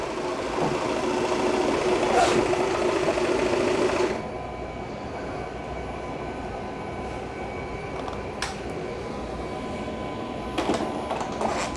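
A Shark robot vacuum backs slowly into its dock with a mechanical whir that is busier for the first few seconds, then settles into a quieter hum broken by a few faint clicks.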